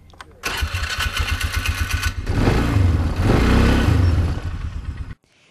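A quad bike engine at a tourist village revs up loud and close, a rapid throbbing idle swelling into a sustained rising roar for several seconds before cutting off abruptly.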